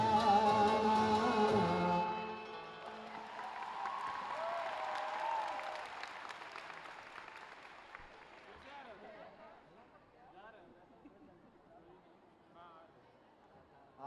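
Audience applause at an Uttar Pradesh Chief Electoral Officer's special summary revision campaign event, loud at first then thinning into lighter scattered clapping and crowd murmur over about fourteen seconds.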